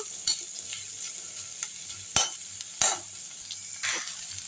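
Chopped onion and tender okra sauté lightly in a pan, giving a steady close sizzle broken by several sharp scrapes and knocks of a spoon stirring.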